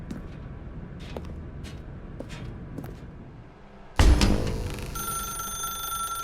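Telephone in The Stanley Parable video game begins ringing abruptly after a quiet stretch of ambient game tones, a loud sustained electronic ring that continues steadily to the end.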